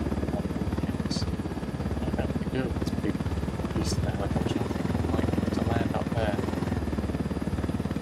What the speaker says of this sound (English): Try not to destroy our helicopter.